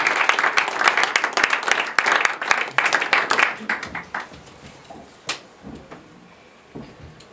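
A church congregation claps and applauds in praise during a French-language worship service, dense rhythmic clapping filling the room before thinning out into scattered claps and fading.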